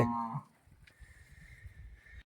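A single low moo from a Khillar bull at the start, then quieter scuffing and rustling noises close by.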